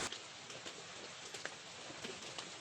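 Rain falls on an abaca farm, heard from shelter under a small hut: a faint, steady patter with a few soft, scattered drip taps.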